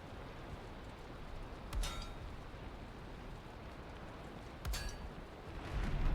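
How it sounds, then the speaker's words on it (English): Steady rain in the video game Valheim, a soft even hiss of falling drops that carries on throughout, broken by two brief bright clinks. "Ugh, rain."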